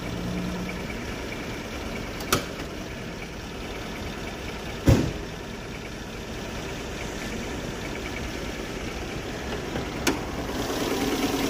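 A Hyundai Atos four-cylinder engine idles with a steady, even hum and faint vibration, broken by a few sharp clicks.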